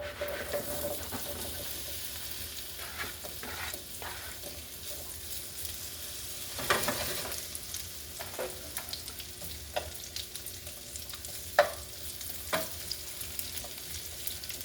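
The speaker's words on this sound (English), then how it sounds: "Alright, my grease is melted. Now I'm going to put my potatoes in." Potatoes frying in melted grease in a pan: a steady, fairly loud sizzle throughout, broken by scraping and stirring noises and a few sharper clacks.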